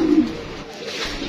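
A pigeon in a breeding loft gives a soft, close coo, a short low call that fades into quiet cage rustle.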